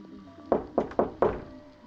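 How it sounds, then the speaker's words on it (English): Another set of hollow raps on a closed bedroom door: four firm, close knocks in quick succession over a faint background hiss, with no voices. "Another 3 knocks."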